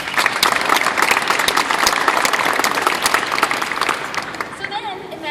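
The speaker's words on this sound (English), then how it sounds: "Let's give a round of applause." A crowd at a Cedar Rapids Titans football announcement bursts into a dense, sustained round of applause that stays loud and steady throughout, with scattered voices mixed into the clapping.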